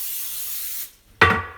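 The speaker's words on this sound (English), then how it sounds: "I'm going to spray the sides and the bottom real well" Cooking spray hisses in a steady burst for just under a second while coating a baking dish for Amish chicken, then after a brief pause a second, louder and shorter spray bursts close to the microphone.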